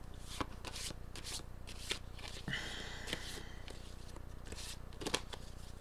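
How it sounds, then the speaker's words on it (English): Tarot cards being shuffled, with repeated crisp riffling and soft slapping bursts at irregular intervals, close and quiet over a faint background hum. "Doing a bit more shuffling."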